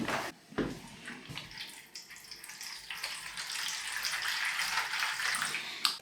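A steady stream of cold water runs from a kitchen tap, splashing and gushing with slight changes in flow throughout, no voices.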